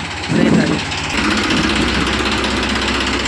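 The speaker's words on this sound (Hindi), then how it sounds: "वो आ गया ट्रैक्टर, यहाँ से देख ले ट्रैक्टर" A tractor engine rumbles continuously nearby as it arrives at a house renovation site, a loud, steady drone with people talking over it.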